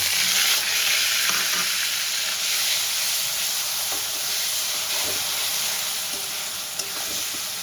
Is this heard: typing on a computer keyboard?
no